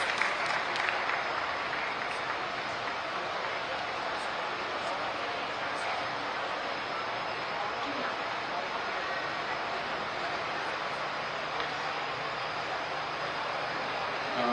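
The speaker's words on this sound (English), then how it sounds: "Can we please have a huge round of applause?" Audience at the International Purple Fest closing ceremony gives a long round of applause, a continuous even roar of clapping heard from some distance, steady for about fifteen seconds.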